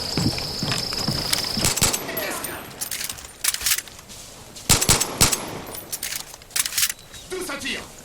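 Gunfire in the video game Far Cry 5: several sharp bursts and single shots scattered across the moment, fairly loud, over a bed of ambient game noise with jangling, rattling movement sounds.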